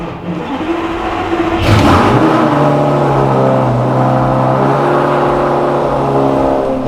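A Lamborghini engine starts and revs up loudly, then settles into a steady, throaty idle with a rumbling low hum. Nobody speaks.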